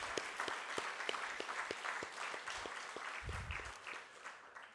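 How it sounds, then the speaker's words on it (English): A faint, steady round of clapping from an audience at a Youth Day event honouring bursary recipients, distant and continuous for several seconds. "let's give them a hand of applause"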